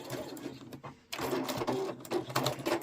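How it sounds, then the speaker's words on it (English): Sewing machine back stitching at the end of a seam on a zipper pouch, a close, steady mechanical whirr with a brief pause partway through before the needle runs on again. "I'm going to back stitch at the end"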